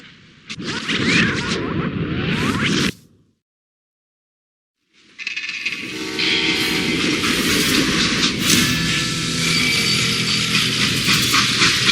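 A freight train in the video game Call of Juarez: Gunslinger rumbles and clatters steadily along the rails, broken by a brief silent gap before the loud rolling noise resumes.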